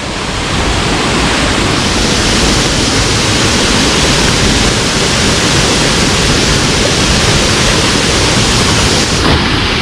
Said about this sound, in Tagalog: Malakas ang daloy ng tubig dito dahil lang gagaling sa taas.